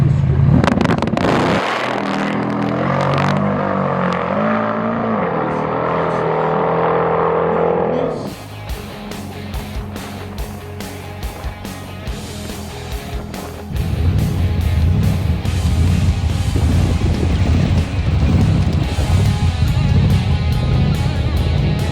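A 1000HP drag car roars loudly on its first pass, with a rising high-revving engine note that cuts off abruptly into rapid crackling, then a heavy, rumbling drone swells back for the rest.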